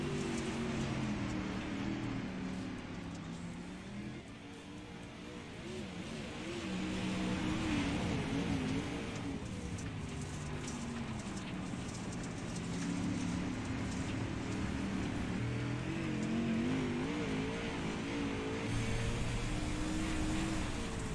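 Dirt race cars in the iRacing video game run qualifying laps, engines droning and rising and falling in pitch as they rev through corners, a steady loud roar with no talk over it.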